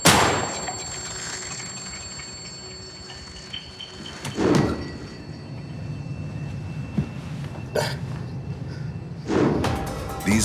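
Gunshots ring out outside a desolate apartment building at night, a few sharp cracks spaced seconds apart, each trailing into a booming echo over a low steady rumble.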